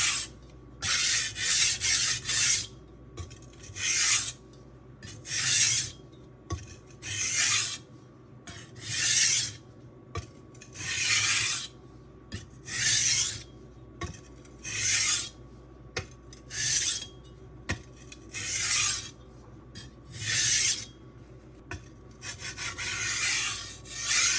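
A kitchen knife is sharpened on a Suehiro Debado whetstone with rhythmic, close raspy scraping strokes, about fifteen separate passes with short pauses between them. No voices are heard.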